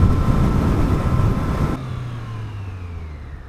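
Engine of a 2020 Triumph Street Triple RS motorcycle while riding, a steady mid-pitched drone with broad road and wind rush that drops to a quieter, smoother hum partway through.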